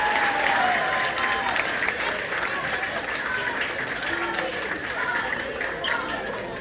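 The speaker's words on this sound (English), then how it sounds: "Let's give a round of applause for our Silver Award recipients." A crowd applauds steadily at a 5th grade promotion ceremony for award recipients, a dense wash of clapping with a murmur of voices and chatter mixed in.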